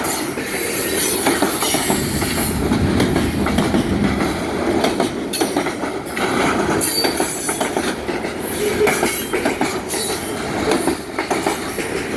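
Freight train cars, including Wisconsin Central bulkhead flat cars, rumble loudly past on an Indiana & Ohio Railway track near Riga, Michigan, with steady wheel roar, clickety-clack and squealing wheels close by.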